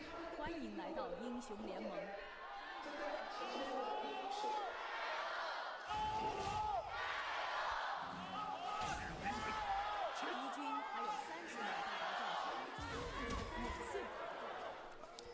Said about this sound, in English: The crowd mic was on this time.